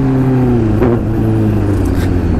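A Honda H2 vehicle running in third gear gives a loud, steady engine drone with a constant pitch and slight variations, close to the listener throughout.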